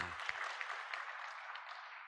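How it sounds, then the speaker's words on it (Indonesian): Faint, distant applause from a church family-care gathering welcoming its new group leaders, a soft steady patter of many hands that slowly tapers off, with no voices over it. "Kita beri tepuk tangan dulu, ya"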